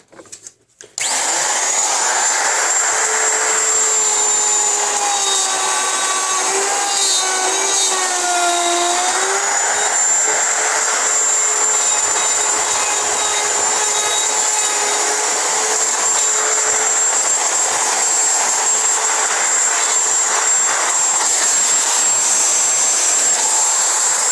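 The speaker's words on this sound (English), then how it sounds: "And then all I have to do is take my router and route this section out." A router cuts a section out of a square wooden leg held in a vise, screaming loudly and steadily for over twenty seconds after a brief start, its pitch dipping as it bites into the wood.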